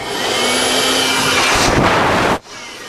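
ENZOO cordless blower running and blowing air straight at the microphone, a loud, steady whooshing roar with gusty buffeting that cuts off abruptly near the end, leaving quieter motor hum.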